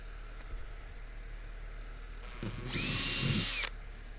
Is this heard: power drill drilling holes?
yes